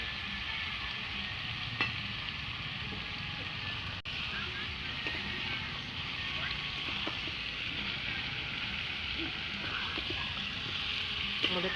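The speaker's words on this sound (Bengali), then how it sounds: "এবার কষাচ্ছি" Meat and spices sizzle and fry steadily in a pan over an outdoor wood-fire stove at a picnic, with occasional stirring scrapes and faint background voices.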